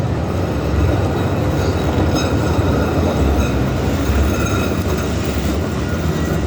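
An old 1980s train rumbles past close by at Stampede Park in Calgary, loud and continuous, with rhythmic rattling of carriages and wheels on the rails.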